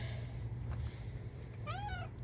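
A cat hidden underneath something gives one drawn-out, wavering meow near the end, following a low, steady background rumble.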